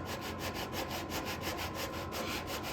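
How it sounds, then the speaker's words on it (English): Sanding block rubbing back and forth over primer on the steel tailgate of a C10 truck, a steady close scraping with regular strokes and no talk. "I need to sand right there a little bit more though"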